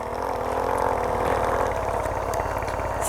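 A homemade mini plowing tractor engine runs steadily during a test, a close, even mechanical drone with a rapid pulsing beat throughout and no talk.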